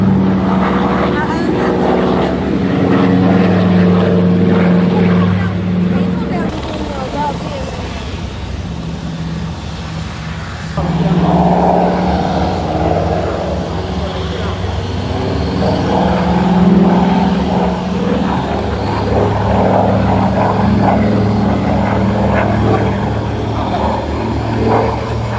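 A propeller aircraft built in Nanchang drones steadily and fairly loudly throughout, with people talking over the engine noise.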